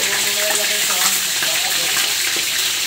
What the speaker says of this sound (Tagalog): Mahirap magluto pag tumatalsik ang bangus.